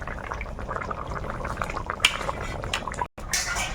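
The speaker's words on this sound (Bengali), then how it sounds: "জল দিয়ে দিই ঝোলটা ফুটে গেছে এখন মাছগুলো দিয়ে দেবো একটুখানি মাছ দিয়ে ফুটিয়ে নেবো" Fish curry bubbling in a pot on the stove, a steady dense simmering and gentle liquid gurgle throughout, with a brief brighter splash near the end.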